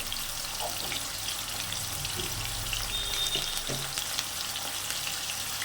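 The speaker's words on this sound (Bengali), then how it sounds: "দিয়ে এবার আমি আলুটা লাল লাল করে ভেজে নেব।" Potatoes frying in a pan with turmeric and salt, giving a steady, close hiss of sizzling oil throughout with a few faint clinks and no talking.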